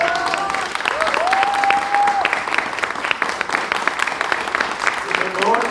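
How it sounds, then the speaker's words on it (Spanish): An audience at a book presentation breaks into steady applause, a dense wash of clapping that carries on for several seconds with faint voices underneath. "Un fuerte aplauso."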